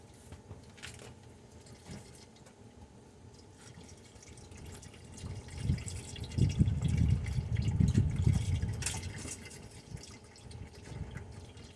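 Used engine oil draining from a 2007 GMC Yukon during an oil change, a soft steady trickle and dripping that swells into a heavier splattering flow midway, close by with no talking.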